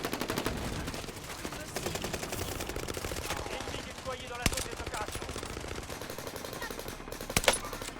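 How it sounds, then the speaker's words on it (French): Rapid bursts of Vanguard weapon gunfire in Call of Duty: Warzone crackle quietly in the background, a continuous rattle of shots with a couple of louder cracks, while a voice talks faintly underneath. "Ça c'est une arme Vanguard ça."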